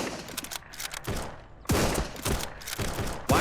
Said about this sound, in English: Why do I hear shooting?